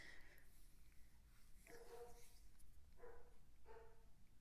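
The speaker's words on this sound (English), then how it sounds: "I feel like he's just going to keep barking." Dog barks come in three or four separate bursts at a moderate distance, sitting over a low background hum with no talking.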